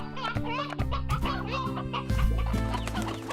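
Rooster clucking in the video game Slime Rancher, a run of close, repeated bird clucks and squawks over a layered game soundtrack with steady tones underneath.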